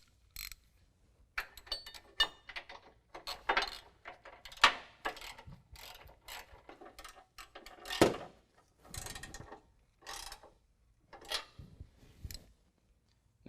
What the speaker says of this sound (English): we're going to go ahead and use a 13mm and tighten this up